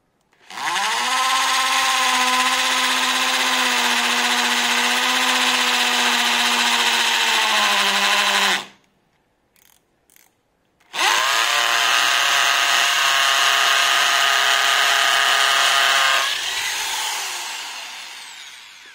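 A Cheston 13mm rotary impact drill fitted with a masonry bit whines loudly and steadily for several seconds, stops for a short pause with a couple of brief blips, then runs again and winds down.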